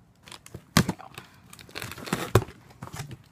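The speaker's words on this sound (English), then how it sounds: "Cut the box. Scissors, do your job." Scissors cut open a cardboard shipping box of books, with sharp tearing and crinkling bursts at irregular intervals, the loudest two strong rips close by, between quieter scraping and rustling.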